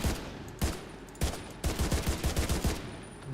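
A fully automatic weapon fires in The Division 2 video game: a few separate shots, then a rapid burst of sharp cracks, moderately loud and close, with no talking.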